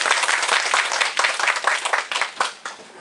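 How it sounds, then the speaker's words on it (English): An audience claps for a presenter named Nico, a loud, full round of applause with many hands clapping together that thins and fades near the end. "I need everyone to give Nico a round of applause"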